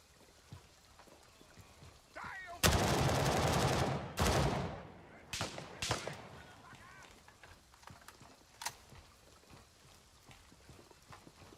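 Gunfire in the video game Gray Zone Warfare comes as a loud sustained burst followed by several shorter volleys and scattered single shots, trailing off into quieter background noise.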